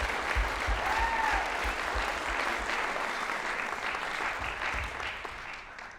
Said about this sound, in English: So a huge round of applause for those kids learning different instruments.